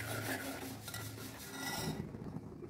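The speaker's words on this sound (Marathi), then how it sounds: "हे सारखं सतत ढवळत राहायचं, म्हणजे गाठी पडणार नाही" Milk with custard powder and milk powder stirred steadily in a pot for vermicelli pudding, a spoon scraping and rubbing against the metal in a continuous rhythm, close up.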